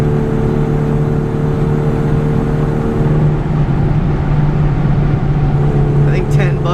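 A 1989 Rover Mini 30-year anniversary edition drives along, its engine giving a steady, loud droning whir with a constant low hum and road noise throughout.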